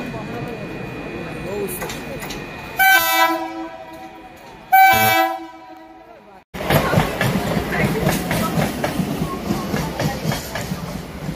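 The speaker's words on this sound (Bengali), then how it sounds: "পাশ দিয়ে ট্রেন যাচ্ছে" Train passing a sunny station platform, with a loud horn blast sounding twice and then a close, steady rumble and clatter of wagons rolling by; a voice speaks briefly.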